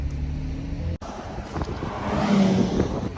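A Ferrari Aperta drives past at a car week gathering in Monterey, a brief moderate engine rumble rising toward the end over outdoor crowd noise.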